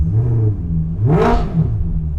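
An Alfa Romeo 8C coupe on its standard, untuned exhaust idles with a deep burble, then is blipped in one sharp rev that rises and falls within a second, heard up close with no talking.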